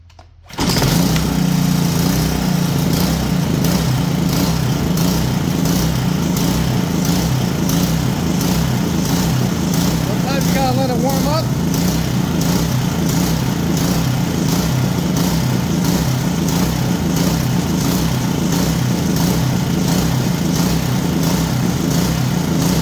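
A Dewalt 3100 psi pressure washer's small gasoline engine fires up after a carburetor clean and runs steadily and loudly, a constant close chugging drone with a slight hunting waver.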